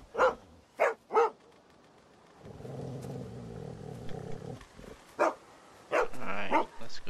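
A dog barks in The Walking Dead Season 2 video game: three sharp barks up front, then a low rumbling growl, followed by more loud barks and snarls, all close and alone.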